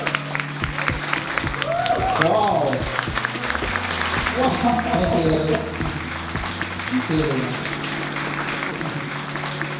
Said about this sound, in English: Can I get all of you to start clapping for him to come on stage?